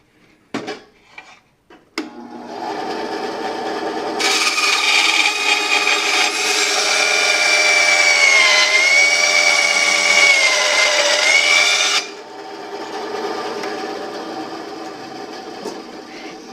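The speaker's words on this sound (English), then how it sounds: "1/8 inch aluminum is too much for my crappy bandsaw" A cheap, underpowered bandsaw strains through 1/8 inch aluminum for motor controller mounts, a loud, sustained metallic screech with ringing whine lasting about eight seconds. Lighter clatter and handling noises come before the cut, and a quieter hum follows it.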